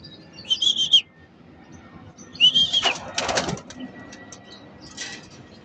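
Racing pigeons coo in a loft, with short cooing bursts, a flurry of flapping wings in the middle, and another soft coo toward the end.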